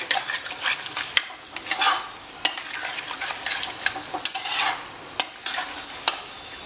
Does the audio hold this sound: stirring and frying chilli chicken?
yes